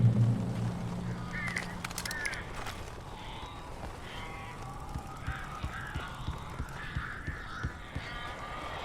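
Crows caw in the video game Alan Wake Remastered, a few harsh calls from a distance over a low, steady ambient hum.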